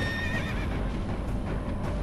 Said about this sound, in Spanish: Un súbito relincho la saca del abismo.